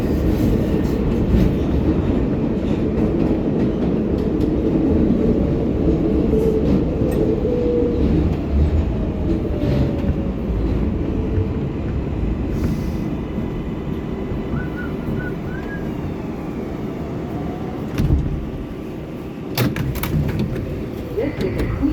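An R188 subway car on a Queens-bound 7 local rumbles steadily along the track, loud and close, with continuous wheel and motor roar, a few faint squeals and brief clicks throughout.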